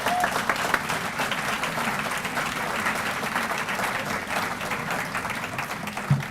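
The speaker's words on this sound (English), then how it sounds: "applause for our coaching staff" An audience at a BYU Cougar Club luncheon applauds the coaching staff, giving steady, dense clapping that holds for the whole stretch with no voices on top.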